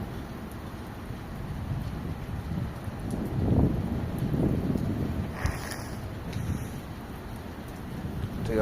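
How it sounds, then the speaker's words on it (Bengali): Rain falling outdoors in Saudi Arabia near a minaret with water running along the ground, a broad steady wash with gusty swells and a few faint higher sounds, no clear speech. "এই হচ্ছে বৃষ্টির পরিস্থিতি"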